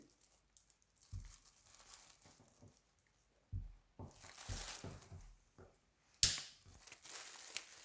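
Snipping and crunching at a security tag being cut off, with scattered soft crinkles and a sharp loud snap near the end, close and quiet.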